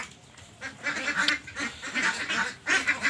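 Farmed ducks quack in a dense, continuous chorus, many birds calling at once in overlapping bursts, loud and steady with no talk.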